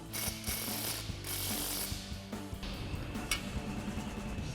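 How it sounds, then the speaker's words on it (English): Ratcheting mechanical chatter with short clicking bursts repeats across the clip, consistent with an impact wrench driving an 11mm socket to tighten an exhaust nut on a 2019-2024 RAM 1500 AWE dual exhaust install; close and fairly steady, no talk. "Then you can grab your impact and 11mm socket and tighten that down."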